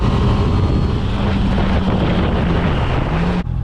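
A Honda CBR650F motorcycle being ridden gives a steady, loud engine drone with heavy wind rush, holding constant before cutting off abruptly near the end.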